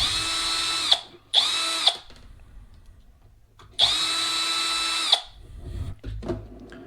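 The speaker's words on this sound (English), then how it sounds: "I'll take these screws out." A small electric driver backs screws out of the rear bumper of a 1/16 Traxxas Summit RC truck, whining in three short close bursts with ratcheting clicks between them.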